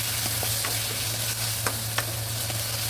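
Tomatoes sauté in a pan for salmon belly sinigang, a constant close frying sizzle with a low hum beneath and a few sharp spatula clicks, no voices.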